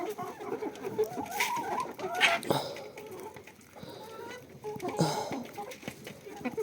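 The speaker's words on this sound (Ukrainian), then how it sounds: "Сама вредніша оце, та рижа курка." A red hen and other chickens cluck and squawk in a backyard poultry yard, with scattered close calls and rustling, while a person talks over them.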